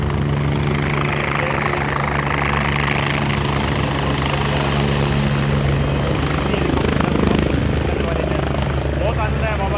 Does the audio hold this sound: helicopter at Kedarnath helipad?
yes